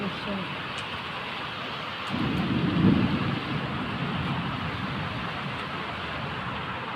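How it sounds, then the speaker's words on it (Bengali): Rain falling during a sudden downpour after a hot spell, a steady hiss throughout with a brief low thunder-like rumble swelling midway, fairly faint. "বৃষ্টি হচ্ছে"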